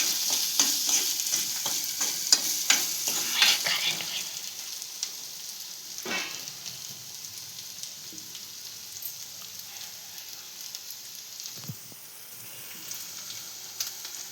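Spice paste for egg puff filling frying in a pan, a steady sizzle with a few stirring scrapes early on, fairly close and moderately quiet.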